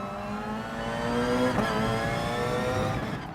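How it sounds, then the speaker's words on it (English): Porsche LMP1 four-wheel-drive hybrid race car in a racing game, accelerating hard out of a slow corner, engine pitch climbing steadily with a brief gear change midway, loud and close with no talk. "this Porsche is actually 4-wheel drive, so the 2 front wheels are electrical motor driven, so you get really quick exits from these slow speed corners"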